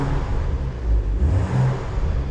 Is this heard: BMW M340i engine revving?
yes